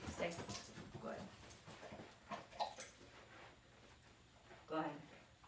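A dog whimpers during go-to-bed training with two dogs present, with short high whines breaking through a trainer's steady talking and commands.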